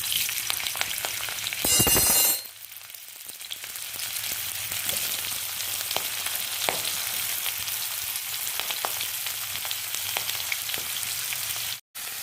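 Cauliflower pieces frying in hot oil, a loud, continuous crackling sizzle close up, with a louder burst near the start as the pieces go in and a brief cut near the end.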